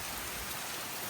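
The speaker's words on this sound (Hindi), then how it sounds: "रास्ता ब्लॉक कर दिया बारिश ने हमारा।" Heavy downpour drums steadily on surfaces, a dense continuous hiss of rain with no pauses and no voices.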